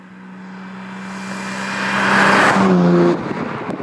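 A 1955 Bristol 404 sports car driving, its engine droning steadily and rising in pitch and loudness as it accelerates, then easing off near the end, heard close and alone.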